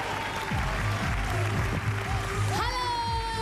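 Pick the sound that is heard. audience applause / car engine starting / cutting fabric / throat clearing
audience applause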